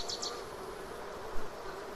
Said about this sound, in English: I hear a bee.